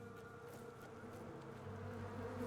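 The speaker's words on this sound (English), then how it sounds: "Oh, you're getting killed by bees?" A swarm of bees buzzes in Tainted Grail: The Fall of Avalon, a faint, steady droning hum that slowly grows a little louder with no talk.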